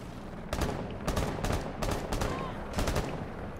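Bursts of automatic gunfire in a tactical shooter game, several rapid volleys spaced across the moment, loud and close with no talk over them.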